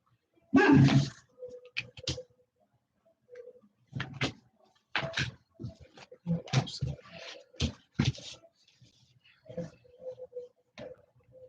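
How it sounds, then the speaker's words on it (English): An agitated dog barks repeatedly indoors, sharp close barks scattered through the stretch in uneven bursts, with quieter gaps between them. "my dog keeps barking and she's agitated right now"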